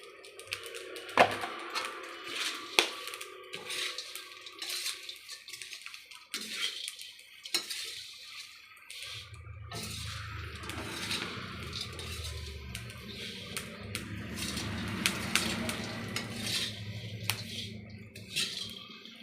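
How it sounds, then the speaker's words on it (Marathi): Black stone flower (dagadphool) is roasted in a little oil in a pan for a spice mix, with a steady low sizzle and stirring scrapes, after earlier clinks of utensils. "यातच दगडफूल टाकून अगदी व्यवस्थितरित्या ह्याला भाजून घ्यायचं आहे"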